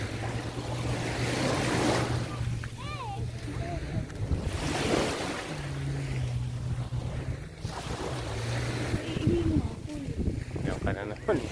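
Sea waves wash onto Al Khan open beach in Sharjah, a steady broad surf roar with wind buffeting the microphone and a low boat-like hum, while people chat over it throughout.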